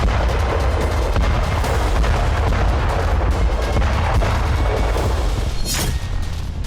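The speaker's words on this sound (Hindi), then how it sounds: "यहां फैब 3000 बम से हमले किए जा रहे हैं।" Russian FAB-3000 bomb strikes on the front line in Ukraine produce a loud, continuous rumbling roar with heavy low-end booms and no talking.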